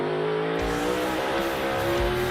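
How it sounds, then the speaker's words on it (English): A NASCAR Cup car driven by A.J. Allmendinger laps Sonoma during practice, its loud V8 engine roaring in a sustained high drone from an onboard perspective, with a shift and brief tire noise, no voices. "A.J. Allmendinger taking you around Sonoma in Cup practice, Group A."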